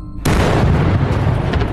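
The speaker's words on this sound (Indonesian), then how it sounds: "ada sesuatu yang meledak keras terdengar dari arah timur" A loud explosion bursts out suddenly at night near a village and rolls on as a heavy, sustained boom that fills the air without fading.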